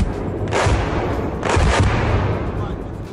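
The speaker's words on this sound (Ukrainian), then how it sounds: "Після цього у Білгородській області пролунали потужні вибухи." Powerful blasts boom across Belgorod region near Shebekino, two heavy bursts about a second apart rising out of a loud, rumbling background.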